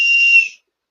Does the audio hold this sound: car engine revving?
no